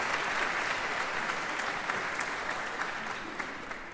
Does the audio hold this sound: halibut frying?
no